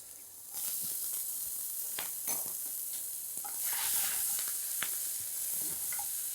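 Chopped ginger, garlic and green chilli fry in a hot pan for a Karaikudi curry leaf chicken, giving a steady, close sizzling hiss with a few scattered clicks of stirring throughout, and no talking.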